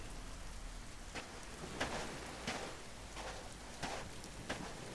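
Heavy rain pours steadily on a beach, a dense continuous hiss with a few louder spatters of drops standing out, with no voices.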